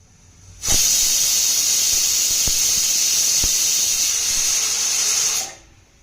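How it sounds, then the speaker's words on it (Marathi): A loud, steady hiss of steam rushes out of a pressure cooker whistle for several seconds, starting abruptly and fading away at the end, with no talking. "तर इथे आपल्या कुकरच्या पाच ते सहा शिट्ट्या झाल्यानंतर गॅस बंद करायचा आहे"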